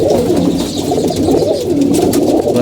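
Pigeons coo steadily in a low, continuous murmur, several birds close by and fighting, with overlapping calls and faint scuffling throughout.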